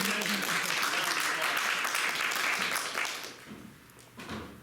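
A theatre audience at a children's adventure show claps for a young volunteer, the applause full for about three seconds and then thinning to scattered claps and faint voices.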